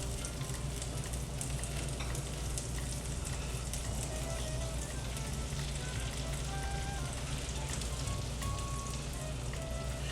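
Shrimp frying in hot butter in a skillet over medium-high heat, a dense continuous sizzle and crackle, close and steady throughout with no talking.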